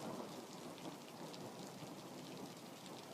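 A recorded thunderstorm plays softly in the background: a steady, even hiss of rain with a faint low rumble that carries on throughout, with a brief sharp click at the very end and no voices.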